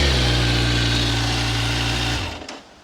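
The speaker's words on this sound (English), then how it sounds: "Lovely 4-cylinder Burble." Four-cylinder engine of a 2025 Kawasaki Ninja 1100SX idling, recorded close at the exhaust pipe: a loud, steady low burble that holds for about two seconds, then drops away as the engine shuts off.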